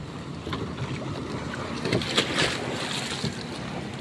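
Waves wash and slosh around a small boat out at sea, a steady rushing of water and wind with a few louder surges, faint and continuous.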